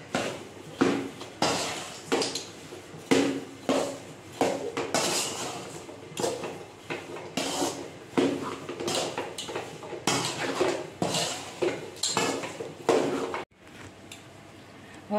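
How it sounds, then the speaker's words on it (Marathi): Semolina being mixed with cardamom powder and sugar in a pan, a close, regular series of spoon scrapes and knocks against the metal, roughly one stroke every second, ending in a short pause. "तर हे सगळे मिक्स करून घेऊया।"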